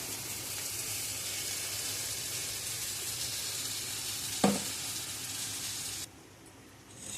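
Ground paste for a potato kurma hitting hot oil in a pan, a loud continuous sizzle with one sharp clack partway through before the hiss suddenly drops away, close up with no voices.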